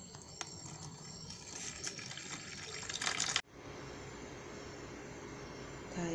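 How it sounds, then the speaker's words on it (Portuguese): Water poured into a tile grout mix, a steady close trickling pour with some rattling that cuts off abruptly partway, leaving a faint quiet room. "E agora eu vou colocar um terço de água."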